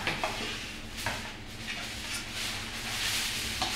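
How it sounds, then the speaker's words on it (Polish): A spoon scrapes and knocks around a cooking pot while food is stirred, with light sizzling underneath and a few sharp metallic clinks, close and moderately loud. "dzisiaj pomieszam sobie w garnkach"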